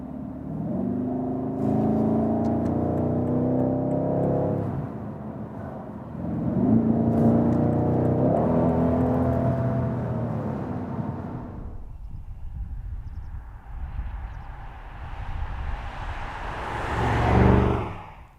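A 2019 BMW M550i G30 engine revs hard through acceleration, rising in pitch over two long pulls with a gear change between them. A later surge builds to a loud, close roar as the car gathers speed on the road.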